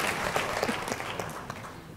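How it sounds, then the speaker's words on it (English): Audience clapping at a conference panel, a short burst of applause that starts full and gradually thins out over two seconds. "Give her a big round of applause."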